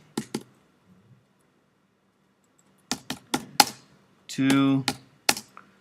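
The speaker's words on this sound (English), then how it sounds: "And then I'm going to type in Mission" Fingers type on a computer keyboard in short bursts of crisp, close clicks separated by quiet pauses, and a voice briefly speaks between the keystrokes.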